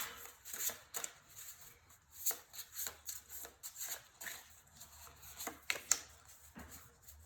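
Tarot cards handled and drawn from a deck in a quiet room, a close, soft series of papery shuffles, slides and light flicks in an uneven rhythm.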